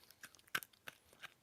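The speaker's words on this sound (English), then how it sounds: "chewing a cough drop is not fun" Crunchy chewing on a hard cough drop, a few sharp close bites spread over a second and a half, one loud crunch standing out among fainter ones, with no talk.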